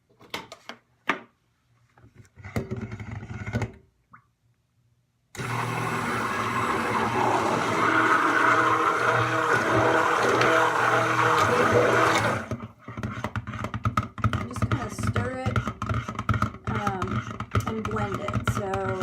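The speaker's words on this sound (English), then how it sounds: "and then start your blender." Stick blender whirring steadily through soap batter for a sea and sand soap, a loud continuous motor drone that starts after a few quiet taps and settles into a rougher, pulsing buzz.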